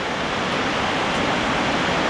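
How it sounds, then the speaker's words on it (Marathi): A small waterfall near a Konkan fort, swollen by the monsoon, gives a steady close roar of falling water for about two seconds. "छोटासा असलेला धबधबा किंवा झरा तर एवढा मोठं रूप धारण केलं त्यांनी तुम्ही बघू शकता"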